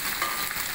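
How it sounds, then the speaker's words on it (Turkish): Cubed lamb sizzles in rendered tail fat in a pan, a brief, steady hissing crackle with no voices. "Bunu güzel bir şekilde kavuracağız."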